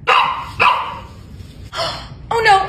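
A dog barks sharply several times in quick bursts indoors, loud and close, with a short gap before the last barks.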